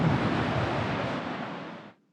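Ocean surf breaks onto a rock shelf near Bells Beach, a dense, steady wash of broadband roar filling the whole stretch before cutting off abruptly, with some wind buffeting the microphone.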